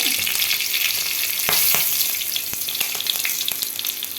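A single green chili frying in a pan, a loud close steady sizzle with several sharp stirring knocks against the pan, no speech.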